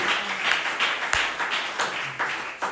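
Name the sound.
applause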